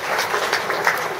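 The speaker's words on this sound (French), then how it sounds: "je voudrais qu'on applaudisse le Sili" A brief, dense burst of audience applause at a meeting between a Guinean government minister and political leaders, many hands clapping together in a steady roar.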